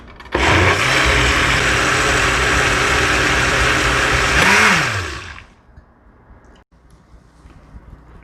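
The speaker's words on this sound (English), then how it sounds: "we're going to close the blender again, and we're going to give it one more blending." A loud blender purees hot pepper sauce, whirring steadily for about five seconds, its motor pitch dipping briefly near the end before it shuts off, leaving quiet room noise.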